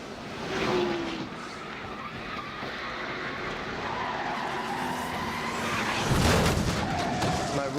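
NASCAR stock cars spinning during a race, tires skidding and squealing for several seconds before a heavy impact with the wall near the end, under crowd noise and a commentator's voice.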